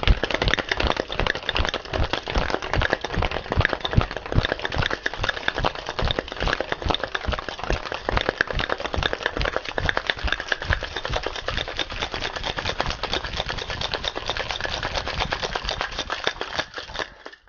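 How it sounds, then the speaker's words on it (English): Ice rattling hard inside a cocktail shaker, a fast, steady stream of sharp clacks close up, shaken vigorously and without pause for most of twenty seconds, no voices. "now we're gonna add our ice and give it a very good shake"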